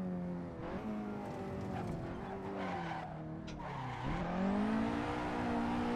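Tyres on a Nissan 180SX squeal steadily in a video game drift at the Nürburgring, with engine revs rising and falling under continuous loud skidding for the whole stretch.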